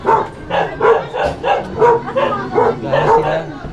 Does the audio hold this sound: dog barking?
yes